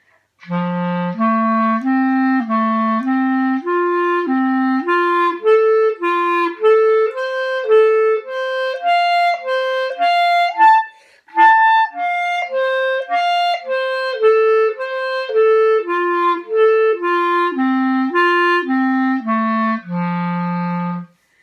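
A solo clarinet plays smooth stepwise inverted arpeggio patterns climbing higher and then descending, with a brief pause in the middle; clear and close.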